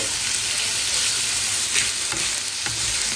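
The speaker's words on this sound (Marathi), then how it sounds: "मला पनीर अगोदर मी परतून घेते" Paneer sautés loudly in oil in a pan, a dense continuous sizzle with a few faint scrapes from stirring; no one talks.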